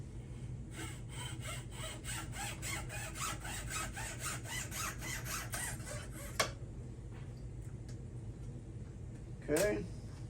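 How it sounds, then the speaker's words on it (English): Hand saw cutting off wooden dowels held in a squeaky old vise, a steady run of rapid back-and-forth strokes for about six seconds, then a few faint knocks and a brief scrape near the end. "Alright, let's cut these dowels off."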